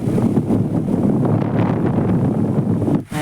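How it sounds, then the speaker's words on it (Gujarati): Wind gusts across a village outdoors near Dwarka, buffeting the microphone as a loud, continuous rumbling roar that drops away briefly near the end, with no talk. "તમે જોઈ પવન કેવો આવે અવાજ આવે તમને?"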